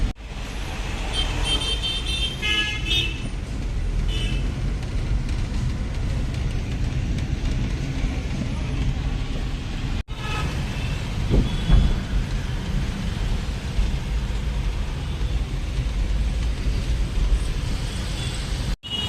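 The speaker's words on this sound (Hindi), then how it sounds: "लेकिन मुंबई का ट्रैफिक एज यूजुअल जाने दे ही नहीं रहा" Dense Mumbai road traffic, cars and engines rumbling steadily throughout with scattered horn toots and a brief louder passing burst near the middle.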